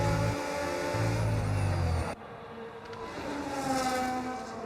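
Engines of F1 25 race cars roar past on track, loud and continuous, with one passing drone cutting off sharply midway before another rises, mixed with a faint whine.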